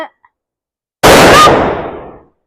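A Diwali firecracker bomb goes off outdoors with a single loud, sharp blast that rings out and decays over about a second, after a brief faint sound and near silence.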